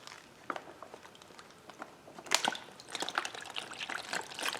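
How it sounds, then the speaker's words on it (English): Water running into a bucket of paydirt, a faint, uneven splashing and trickling with scattered gritty patters, growing busier toward the end. "I'm going to run a little bit of water in here just in case there's something in the cracks"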